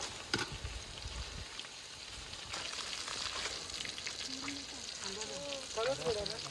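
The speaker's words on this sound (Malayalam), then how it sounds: "പച്ചമുളക്, കറുവപ്പല, എന്നിട്ട് ഒന്ന് ചെറുതായിട്ട് ഇളക്കി കൊടുക്കാം" Green chilies and cinnamon fry in a pan with a light, crackly sizzle, and a few stirring clatters come near the start. Faint voice-like sounds come in toward the end.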